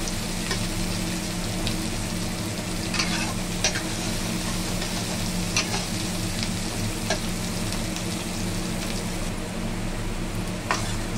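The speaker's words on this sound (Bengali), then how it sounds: "পেঁয়াজটাও একটু ভেজে নেব আলুর সাথে।" Chopped onion and browned potato pieces fry together in a pan for a jackfruit seed curry, giving a steady, close sizzle with occasional stirring scrapes and no talking.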